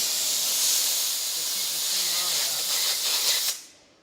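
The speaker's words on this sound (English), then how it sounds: "steam gets underneath and you just peel away" A steam cleaner hisses steadily as it lifts a vinyl decal off a car's painted finish, a loud, continuous, close rush of steam lasting several seconds before cutting off abruptly.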